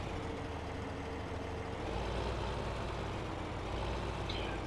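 Steady tractor engine running in the farming game Farming Simulator 15, a continuous broadband rumble at even, moderate loudness throughout, with no talk over it.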